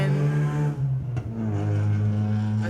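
Low, steady engine rumble from vehicles on a nearby road, heard from inside a trailer, a loud droning hum that briefly dips and then swells again as traffic passes.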